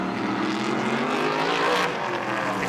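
Brisca F1 stock car racing around a tarmac track, a loud, rough engine roar building as the car approaches and passes, then easing slightly.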